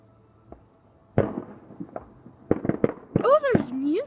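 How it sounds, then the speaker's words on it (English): Fireworks and firecrackers going off outside a house: several sharp bangs and pops of varying loudness follow one another irregularly, with a person's voice talking among them near the end. "Fireworks."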